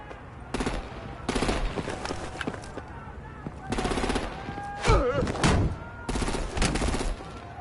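Gunfire and artillery in the video game Batman: The Telltale Series: several loud, rattling bursts of rapid shots separated by short gaps, with one sharper blast partway through.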